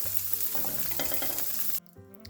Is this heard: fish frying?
yes